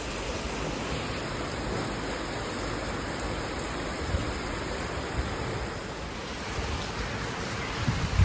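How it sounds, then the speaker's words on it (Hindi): Heavy rain pours steadily during a thunderstorm, a dense, even hiss of falling water with a few faint thumps and no break. "ये देखिए गाइस, बारिश कितना तेज हो रहा है और चमक धमक के साथ"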